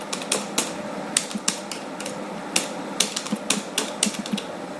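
Keys tapped on a computer keyboard while entering an email address at a website sign-in, a quick irregular run of close, crisp clicks with no talking.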